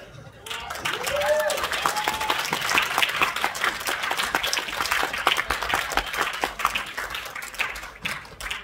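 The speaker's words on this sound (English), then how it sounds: "They didn't hear you. Applaud one more." A second round of audience applause for a film director and cast, steady dense clapping sustained throughout, mixed with crowd voices and a brief vocal sound near the start.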